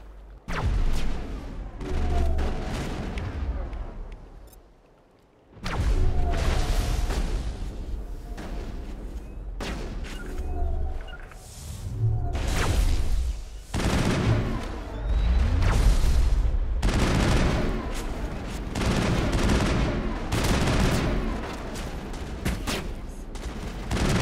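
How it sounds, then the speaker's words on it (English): Heavy crossfire rattles through a Mass Effect firefight: loud overlapping rifle bursts and booming impacts, broken by a brief near-silent lull before the barrage resumes and stays intense. "Monovai is under coordinated crossfire."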